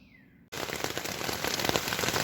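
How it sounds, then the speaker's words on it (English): Rain starts abruptly after a moment of quiet, then pours steadily, a dense hiss of drops pattering on a surface nearby. "the rain came in. It's raining."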